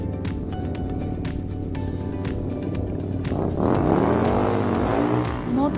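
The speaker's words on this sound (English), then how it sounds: "This is a motorcycle." A motorcycle engine runs loudly and close at a steady idle, then revs up in a rising, wavering whine before easing off, with no voices.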